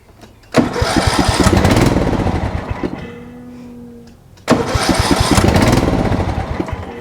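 A John Deere Z225 riding mower's engine cranks loudly in two long bursts, each roughly three seconds, with a brief, quieter pause between them as it struggles and fails to fire up.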